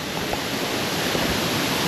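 A Nebraska waterfall pouring onto rocks, heard up close as a loud, continuous broadband roar with no pauses and no voices.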